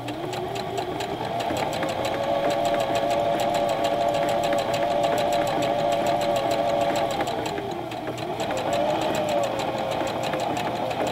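A Singer Classic Heavy Duty sewing machine runs a back-and-forth reinforced stitch, a loud steady close-up motor hum with rapid needle clatter and a short slowdown near the end.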